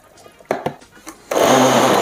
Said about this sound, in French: On commence à mixer le tout